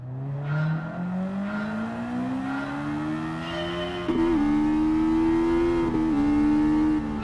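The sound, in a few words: car with semi-racing exhaust in video game Gran Turismo 7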